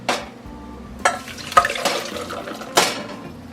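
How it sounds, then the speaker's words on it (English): Vegan chocolate pudding mixture is poured into a big pot, with a few sharp clanks and scrapes of utensil against pot over soft wet pouring, all close and moderately loud. "you're gonna go ahead and add your mixture into a big pot"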